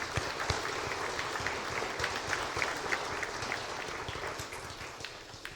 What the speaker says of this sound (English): If you could please join me with a warm welcome,